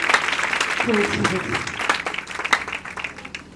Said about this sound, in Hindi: जोरदार तालियां बजाइएगा उसके पाक रूह के लिए